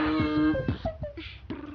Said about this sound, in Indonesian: Ada suara kucing lagi